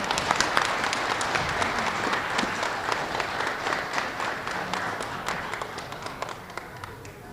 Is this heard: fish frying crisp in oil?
no